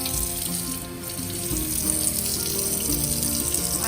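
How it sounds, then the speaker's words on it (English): Steady water runs from the faucet into a newly renovated kitchen sink, a continuous close, hissing splash with no voices. "I have missed water in a kitchen sink for sure."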